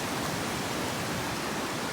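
A waterfall on a creek in North Georgia gives a steady, loud, broadband rushing roar that fills the whole clip without a break, heard close up with no voices.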